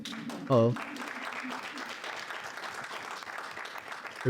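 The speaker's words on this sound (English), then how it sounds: "And thank you for the applause." An audience applauds at a congressional briefing on human rights in Pakistan, a steady moderate round of clapping following a brief spoken word, with another voice cutting in at the end.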